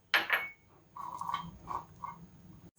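Garlic cloves dry-roasted in an empty pan without oil, with a sharp clatter at first, then a few light clinks and scrapes against the metal, quiet and close.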